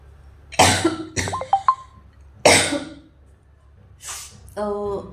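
Several harsh, separate coughs from a person suffering with a cold burst out one after another, close and loud, with a throaty rasp and a short voiced sound at the end.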